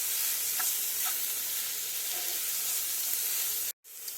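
Spices (turmeric, coriander powder, garam masala and red chilli powder) sizzle steadily in a frying pan with soft stirring scrapes, a continuous close hiss with a brief cut near the end.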